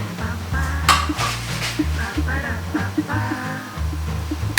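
A metal spoon skims foam from a pot of boiling Thai rice soup, clinking and scraping against the pot in quick, irregular taps over a soft bubbling background.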